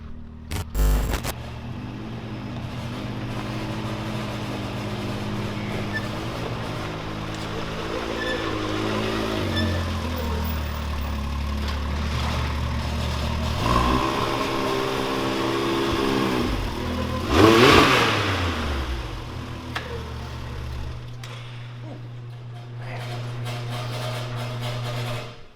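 A Can-Am Maverick X3 XRS side-by-side drives on cold, snowy ground, its engine droning and rising and falling through revs, loudest with a brief surge near the middle, no voices over it.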